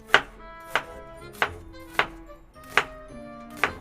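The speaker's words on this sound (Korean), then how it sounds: "근데 양파부터 썰어줄게요." A knife chops onions on a cutting board with six sharp, evenly spaced thuds, close and clear with no talking.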